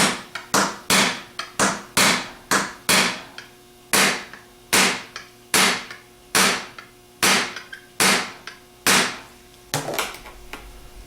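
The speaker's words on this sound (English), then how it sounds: "pound directly down on the Torx head to break the taper loose" A hammer strikes a 6-inch by 1/4-inch extension set on the Torx head of a Ford PMGR starter, about fifteen sharp, loud, ringing metallic blows in an uneven rhythm, each followed by a short decay, with no talk.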